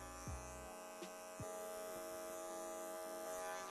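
Electric hair clippers run clipper-over-comb during a men's taper fade haircut, giving a steady, fairly quiet buzzing hum with a few brief clicks of the comb and blade touching hair, close by with no talking.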